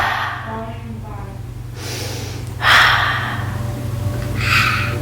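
Child breathing deeply to calm down: a couple of loud, close inhales and exhales, with a low steady hum behind them and some talk nearby.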